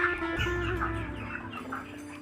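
Chickens about forty days old clucking inside a poultry farm, a dense, continuous chorus of overlapping clucks and murmurs at moderate loudness with no talking.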